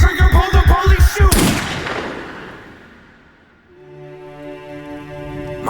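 A burst of rapid gunshot sound effects rings out inside a song, loud and close, then decays into a long fading tail before music tones return.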